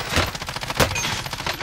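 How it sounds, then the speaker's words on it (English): Rapid gunfire aimed at the player in Warzone, a dense fusillade of close, sharp shots repeating quickly with one louder crack standing out partway through. "I'm getting shot at."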